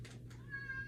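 A house cat gives a short meow while trying to come indoors, heard close by over a steady low hum and faint room noise.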